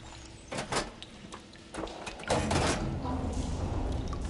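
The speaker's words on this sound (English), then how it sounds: "Sounds like the water's switched." Machinery in the video game Horizon Forbidden West switches a water flow, with several mechanical clunks and sliding grinds that build into a sustained rumbling churn, moderately close.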